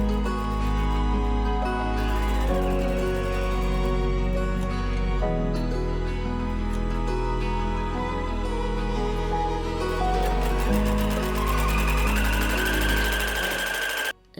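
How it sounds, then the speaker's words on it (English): A sewing machine stitches around the neckline facing of a fall blouse, its motor humming steadily and loudly for the whole stretch with a slight change in tone near the end. "Now I can just sew around the line I just drew."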